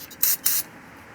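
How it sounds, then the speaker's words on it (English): Cleaner is sprayed onto a rag during work on a 2007 Toyota Tundra, two short close hissing bursts in quick succession. "I'm going to spray a little bit on the rag."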